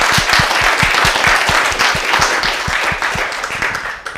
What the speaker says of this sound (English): we can still clap for him